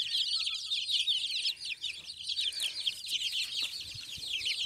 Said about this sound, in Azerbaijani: Bunlar məndə 2 həftəlik cücələrdir.